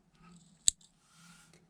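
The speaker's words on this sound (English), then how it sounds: "So let's cut our yarn" Scissors snip through crochet yarn in a single sharp, close click, with a faint rustle of handling around it in an otherwise quiet room.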